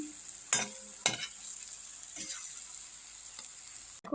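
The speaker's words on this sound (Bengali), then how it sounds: "বড়াগুলো আমার ভাজা হয়ে গেছে" Green banana kofta fritters frying in hot oil, a steady faint sizzle with a few sharp clinks and scrapes of a utensil against the pan.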